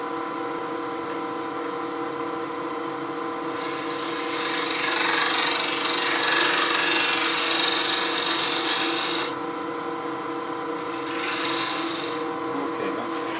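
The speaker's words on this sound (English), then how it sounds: "Now I'll pick up the cut again with the other scraper." A hand scraper cuts into the inside walls of a wooden clamshell box, making a continuous close rasping scrape that swells in the middle and breaks off briefly in short pauses near the end.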